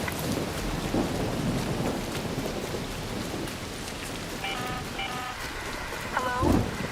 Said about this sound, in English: an electromagnetic storm is currently raging over topside